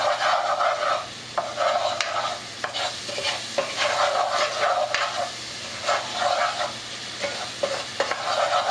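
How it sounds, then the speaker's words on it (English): A spoon stirs a five-spice sauce mixture of fennel, anise, ginger, cinnamon and cloves as it melts together in a pan, with continuous close scraping and gentle sizzling throughout and no voices. "So now what I'm going to do is just stir this, make sure it all kind of melts together."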